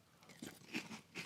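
Someone bites into and chews crunchy Frosted Flakes cereal, with a few quiet, close, separate crunches.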